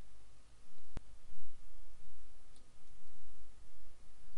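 A single sharp computer mouse click on a link, heard once over a steady background hiss.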